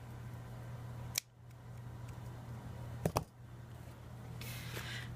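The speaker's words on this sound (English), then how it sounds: "And then cut off the ends." Scissors snip through the ends of a knotted ribbon on a small paper craft box, two or three quick close cuts, the first a single sharp snip and then a tight double snip, against a quiet room hum.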